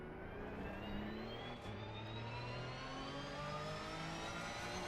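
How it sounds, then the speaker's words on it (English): Porsche race car in Assetto Corsa Competizione, its engine climbing in pitch as it revs high through the gears with late shifts, a steady droning whine with only slight breaks at the changes. "So this car is a Porsche, and the gear change is quite late."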